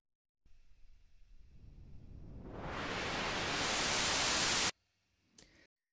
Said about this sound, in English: So EDM people, you've used risers before.